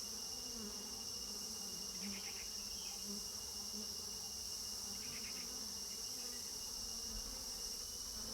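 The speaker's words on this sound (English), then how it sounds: "worker bees are hard at work" Worker bees buzz around an old abandoned nest on a branch in Shuklaphanta, Nepal, a steady, faint droning hum that continues throughout, with a couple of brief higher chirping notes.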